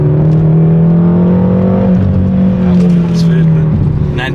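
A BMW M6 pulls hard under heavy acceleration, its loud, steady engine drone rising in pitch as the revs climb, heard from inside the car with occupants talking over it.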